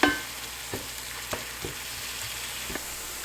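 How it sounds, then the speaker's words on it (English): Tomato, ginger and garlic fry in a pot for lamb thukpa, giving a soft, fairly quiet sizzle broken by about five sharp spoon taps on the pot. The sound is close, with no voices. "with tomato I'm going to add this ginger and garlic. So let's cook this for a minute,"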